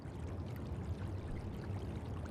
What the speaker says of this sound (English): what the hell is this background sound, bro? Is it waterfall or something?